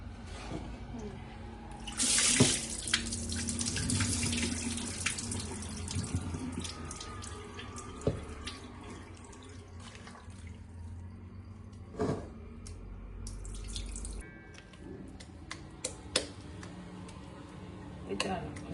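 Homemade butter being rinsed and worked in a bowl of fresh water, with gentle splashing and sloshing throughout, close and fairly quiet, and a sharper burst of running water near the start.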